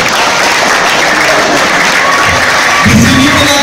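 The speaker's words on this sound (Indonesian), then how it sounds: "Beri tepuk tangan." A school audience at a socialization session gives loud, dense applause, a continuous roar of many hands clapping close up, with a faint crowd murmur rising near the end.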